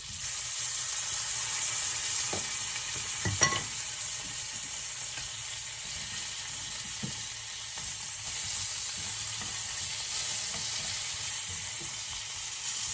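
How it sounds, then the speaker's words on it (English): Mushrooms and a tomato frying in a pan for a full English breakfast, a soft continuous sizzle with faint stirring and scraping, one brief clink near the start. "I have some mushrooms. We're going to fry along with a tomato."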